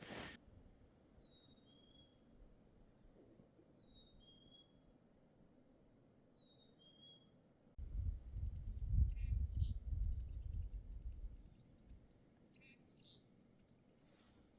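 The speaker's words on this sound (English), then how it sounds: "Listen to all those birds." Wild birds chirp in a spring swamp, thin high calls repeating every few seconds at a distance, joined later by a busier cluster of tweets over a rising low rumble of wind or movement.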